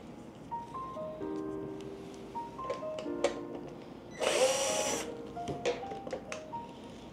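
A power screwdriver backs out a side panel screw during an appliance repair. It gives a single short, close whirring burst of about a second, surrounded by soft electronic beeps and light clicks.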